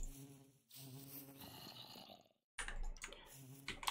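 Buzzing bees in the Minecraft modpack Engineer's Life 2, a thin insect drone with clicking game sounds, broken by a short silence, and no talk during the clip.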